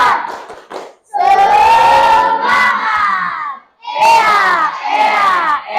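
A classroom of pupils loudly chants the 'tepuk semangat' rhythmic clapping cheer in unison, two shouted phrases split by a brief pause, with claps buried under the voices.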